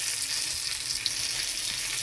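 Chicken sizzles and fries steadily in hot oil in a pan, a continuous close crackle with no voices.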